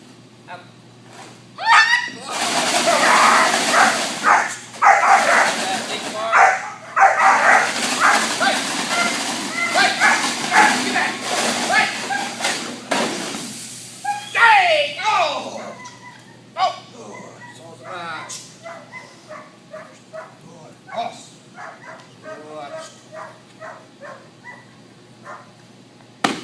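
Young German Shepherd guard dog barking and whimpering during protection training, with loud bursts through the first half and sharper, scattered barks later while someone talks over the dog throughout.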